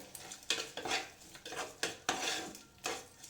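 A spoon stirs a soya chunk pulav mixture in a metal pot, making about half a dozen quiet rhythmic scraping clinks and soft wet shuffles, close and alone.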